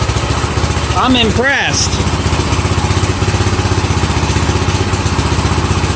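A Harbor Freight 212 cc engine fitted to a barn-fresh vintage tiller over 50 years old runs at a steady, even idle with a close, evenly pulsing throb, while someone briefly speaks over it.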